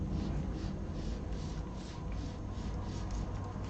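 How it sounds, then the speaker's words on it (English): A pen or pencil drawing a line along a ruler on a paper pattern piece, a soft steady scratchy rubbing heard close up with no talking. "I think I'm going to draw my bottom line with a ruler"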